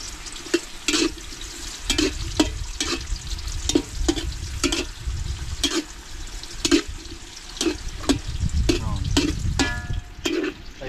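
Kikiam and squid balls frying in hot oil as pansit toppings give a steady crackling sizzle, cut by repeated sharp clatters of stirring and scraping in the pan, with no talk.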